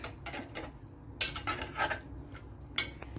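A spoon stirs tomato, turmeric and salt in a cooker for a Kerala ozhichu curry, making a few scraping clinks against the metal pot, quiet and close, with two sharper knocks.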